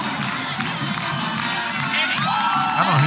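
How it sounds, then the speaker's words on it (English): Football fans at a Friday night high school game cheer and shout for McAlester's female kicker after her extra point, a steady, loud crowd roar with whoops and children's shouts throughout. "Fans cheering her on."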